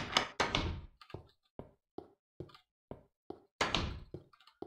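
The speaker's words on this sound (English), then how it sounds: "The door opens up." Door mechanism in the game Minecraft, heard as a series of wooden clunks and taps, several sharp knocks spaced in an uneven rhythm with a couple of louder bursts, close and clear.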